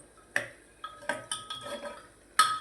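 Potatoes cooking in oil are stirred with a metal spoon in a pan, giving a few scattered clinks and scrapes, sharp and close, with brief quiet gaps between strokes.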